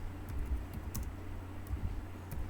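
Typing on a computer keyboard while filling in a Google Classroom class setup, with soft, steady clicking of keys at close range over a faint background hum.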